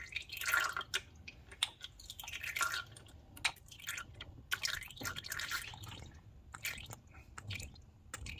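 Power steering fluid drains from a 2008-2014 Subaru WRX STi steering rack into a drain pan below, making faint, irregular drips and small wet splats in a quiet garage.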